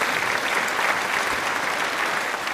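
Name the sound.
class applause, clapping hands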